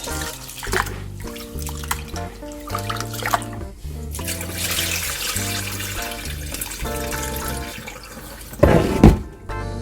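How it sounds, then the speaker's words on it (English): Water sloshes and swishes in a bowl as Ofada rice is rinsed until the water runs clear, over background music, ending with a louder splash near the end. "I just wash until I see that the water I'm using to wash it is clear"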